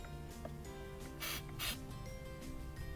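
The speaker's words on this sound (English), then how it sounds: "Spray it a little more." Two short bursts of aerosol MAF sensor cleaner hiss from a close can sprayed into a Toyota Prius, set among quiet mechanical clicks and rattles, with no talking.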